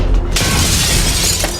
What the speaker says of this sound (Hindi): एक मिनट ग्रेनेड, ये गया, मुझे लगता है टू द पॉइंट गया ग्रेनेड